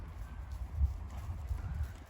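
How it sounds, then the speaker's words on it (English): Horse hooves clip-clop in a steady, moderately close rhythm during cross-country schooling, with low thuds over faint outdoor background. "There you can see the lead horse coming into its own."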